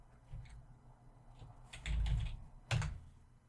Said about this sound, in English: try typing in yes before you press enter.